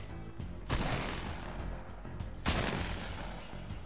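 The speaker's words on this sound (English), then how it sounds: "That's my burst SMG, or whatever it's called." Video game gunfire from a burst SMG, with two sharp loud shot bursts standing out over continuous busy game noise and rumble.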